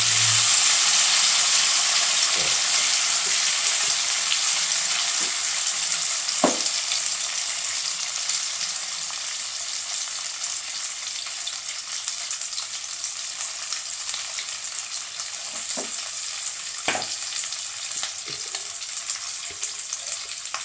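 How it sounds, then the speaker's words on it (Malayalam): Steady oil sizzle of beef pieces frying in a pan for pickle, with occasional clinks and scrapes of stirring, no voices. "ഇത് നമുക്ക് ഒരുമിച്ച് വറുക്കാം,"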